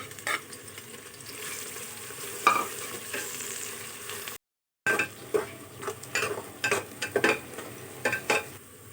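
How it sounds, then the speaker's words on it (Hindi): Steady sizzling of onions frying in hot oil in a pan, with scraping stirs and clinks of a utensil, a short silent break midway. "प्याज को हमने पिंक होने तक फ्राई करना है"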